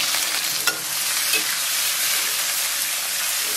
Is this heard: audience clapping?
no